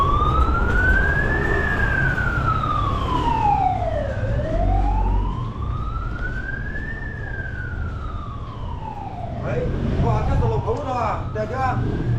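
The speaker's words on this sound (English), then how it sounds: "Got an ambulance there." An ambulance siren wails in slow rising and falling sweeps, fairly loud amid street noise in Beco da Pinga, Macau, switching to a faster yelp near the end.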